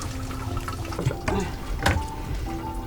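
Home-distilled liquor trickling out of a traditional still, a steady thin liquid flow with faint splashes and background hum.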